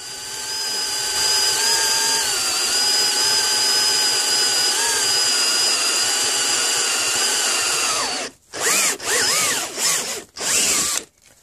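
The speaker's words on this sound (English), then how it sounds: "That's a really good drill bit, though." A high-speed steel drill bit bores into a hardened Nicholson steel file, a steady loud whining drone lasting about eight seconds, then several short bursts as the drill stops and restarts.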